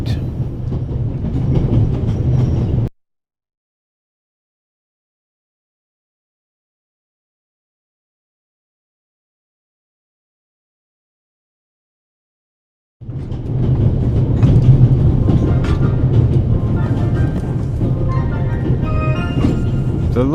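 Orient Express train rolling along in The Raven Remastered, a loud steady rumble with rhythmic clickety-clack of wheels on rail joints, cut off by a long stretch of silence before the running noise resumes just as loud.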